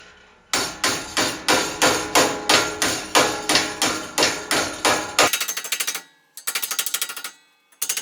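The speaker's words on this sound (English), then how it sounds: "I'm gonna be hammering this up here." Sharp metal hammer blows ring out in a steady rhythm as steel rocker panel flanges are shaped in a jig, about a dozen evenly spaced strikes, then quicker lighter taps in short bursts with brief pauses.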